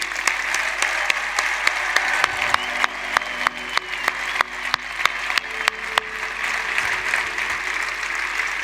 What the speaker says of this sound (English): let's clap up for the over 50 crowd that's sitting